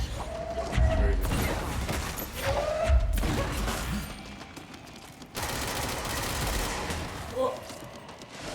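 Rapid gunfire bursts and impacts in the action video game Control, with heavy volleys around the first three seconds and another loud stretch after five seconds over a busy game soundscape.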